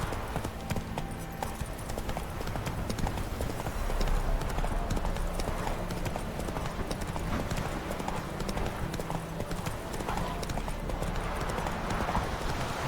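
Roach the horse in The Witcher 3 video game trots steadily, clip-clopping hooves thudding in an even, continuous rhythm over soft ambient background for the whole stretch.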